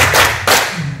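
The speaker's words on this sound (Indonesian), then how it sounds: "Yuk sekarang tepuk satu kali," A seated audience at a seminar responds to a call to clap, producing a loud, close burst of many hands striking at once, with a second burst following.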